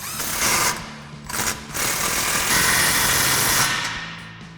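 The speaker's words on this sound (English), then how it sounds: "take my 15mm on my gun, tighten this one up" An impact gun with a 15mm socket tightens an exhaust clamp nut on a 2009-2021 Toyota Tundra fitted with an MBRP 3-inch single exhaust, giving close, loud buzzing, rattling bursts of a few seconds each, with no talking.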